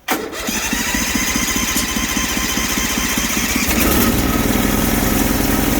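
A Briggs 20HP V-twin engine on a Bolens Hydro tractor cranks briefly, catches, and settles into a loud, steady throbbing run that rises a little near the end.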